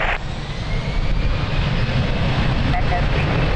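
Aircraft engines roar loudly and continuously as a plane goes around at a windy Lisbon Airport, with a brief radio voice at the very start.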